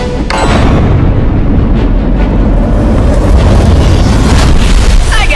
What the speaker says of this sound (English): I need to use one of my bonus super bombs.